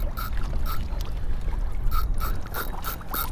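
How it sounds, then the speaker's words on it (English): Kayak maneuvered on the water, with a steady wash of moving water under repeated short clicks and knocks at a loose, uneven rhythm, close up and moderately loud, no voices. "Try to get the kayak in the right direction"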